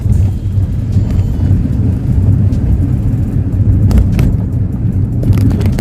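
A car drives along a rough forest road in the hills. Its steady, loud low rumble is buffeted by wind noise, with a few brief clatters and no one speaking.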